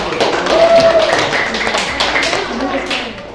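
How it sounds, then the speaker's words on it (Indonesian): A class claps hands in a short burst of scattered applause, close and fairly loud, with a voice speaking over it. "Tepuk tangan."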